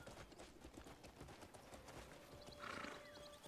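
Hooves of a horse in the video game Crimson Desert, a quiet, rapid clip-clop rhythm with faint tonal game sounds layered in near the end.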